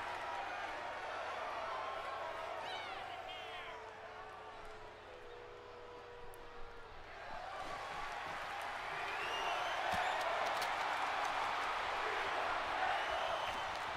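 A virtual arena crowd in the wrestling video game WWE 2K24 roars and cheers continuously through a match, a broad wash of noise that swells louder toward the end, with talking voices over it.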